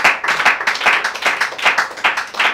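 A church congregation claps in acclamation for Jesus, a dense burst of many hands pulsing in a steady rhythm of about three beats per second, loud and close.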